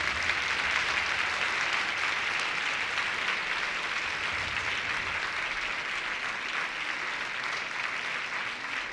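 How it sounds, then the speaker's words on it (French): Audience applause at a community engagement celebration, a dense steady wash of many hands clapping at even volume throughout, without voices. "archi-applaudissements pour le collectif La Fourmilière"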